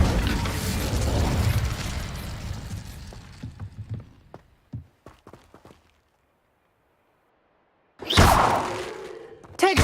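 Incendio fire spell cast in the Hogwarts Legacy video game: a dense roaring burst of flame fading over several seconds, followed by scattered sharp cracks and pops, a brief silence, then another loud fiery blast.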